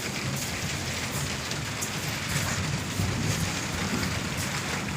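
Steady rain falls outdoors at a work site where eucalyptus poles are being set, a dense, even hiss of drops on surfaces with no talk.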